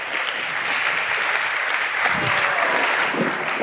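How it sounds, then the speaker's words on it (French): Steady, dense clapping from a conference audience at a 2017 TF1 campus event, filling the room evenly for the whole stretch with a few sharper individual claps near the end. "On peut les applaudir."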